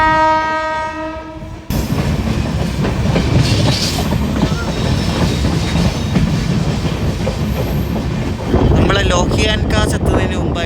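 A passenger train runs at speed between Kapurthala and Sultanpur Lodhi in Punjab, a long horn blast sounding first, then a loud steady roar of wheels and rushing air with a second sharp burst of rattling near the end.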